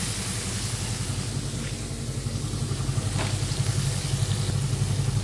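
Masala spices sizzle and roast in a pan for a spicy soy chunk dish, giving a steady frying hiss with a low bubbling pulse underneath. No one speaks.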